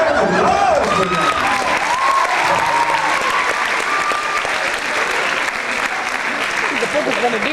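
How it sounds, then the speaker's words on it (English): A high school crowd at a senior party hypnotist show gives loud, sustained applause with some cheering, and voices carry over the clapping throughout. "Round of applause for that."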